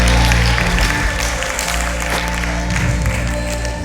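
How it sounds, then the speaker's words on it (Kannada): An audience at a Hindi film song concert claps in a steady, dense burst of applause over a low, constant hum. "ತಮ್ಮ ಪ್ರೀತಿಯ ಚಪ್ಪಾಳೆ"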